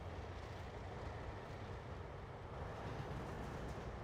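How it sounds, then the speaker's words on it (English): A Deltic diesel locomotive running light with no train attached, in the Trainz Simulator 2 game. It gives a steady, low engine drone with a continuous rumble and no breaks. The sound is fairly quiet and no one talks over it. "Okay, now we're driving a light engine."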